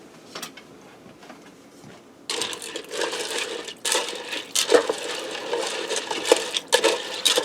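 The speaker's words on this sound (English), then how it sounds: "Let me grab a spoon and stir that up." A spoon stirs pasta and a jar and a half of water in a Ninja Speedi cooker pot, making repeated clattering scrapes and knocks against the pot that grow louder and busier after a quiet start, with no talking.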